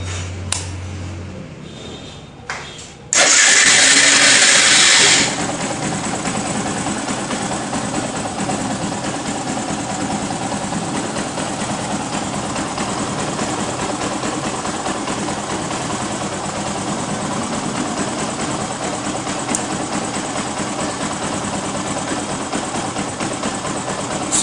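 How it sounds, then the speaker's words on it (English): A Bajaj Pulsar motorcycle engine cranks over after a brief quiet start, then catches and settles into a steady, continuous idle that runs unbroken to the end. "so let's start up the engine"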